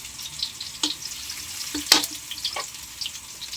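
Garlic fries in oil for a seafood dish, a faint, steady sizzle close by with a few sharp crackles and pops scattered through it.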